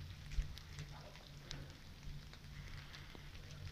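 Rain falling in misty woods, a soft steady patter with scattered drips and occasional light taps, faint and diffuse.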